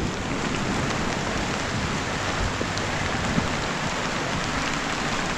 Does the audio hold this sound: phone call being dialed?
no